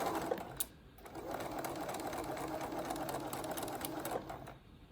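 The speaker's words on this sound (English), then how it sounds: "do not run over your pin, and then back stitch before you run off of the fabric" A sewing machine runs in a steady, even whir for several seconds while stitching a dart in fabric, with brief clicks at the start and end as it begins and stops.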